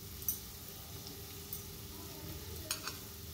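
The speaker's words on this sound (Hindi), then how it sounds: "अभी हम इसमें बारीक कटे हुए हरी मिर्च ऐड कर लेंगे" Potatoes fry in a pan with finely chopped green chillies added, a low steady sizzle with a few faint clicks and stirs scraping on top.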